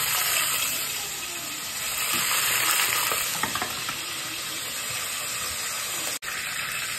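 Curry leaves, mustard seeds and cumin crackle in hot oil for a Nellore-style potato masala, a dense, close sizzle with light popping that eases slightly toward the end, with no one talking.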